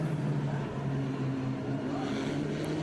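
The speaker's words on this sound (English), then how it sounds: "you can hear from the notes of the cars how they're braking and accelerating in almost identical positions" Race cars braking and accelerating together on the Mid-Ohio road course during a SpeedTour Grand Prix, with steady, overlapping engine drones that shift in pitch, heard at a moderate distance without any talk.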